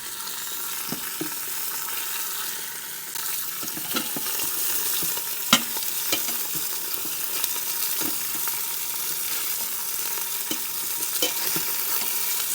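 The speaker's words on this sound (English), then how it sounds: "So I'm putting my short ribs in to sear, season side down." Short ribs searing in an Instant Pot keep up a loud, constant sizzle, broken by occasional sharp pops and the scrape of the meat being moved. No one talks.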